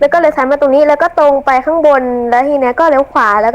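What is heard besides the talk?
No distinct noise like a dog, phone or traffic.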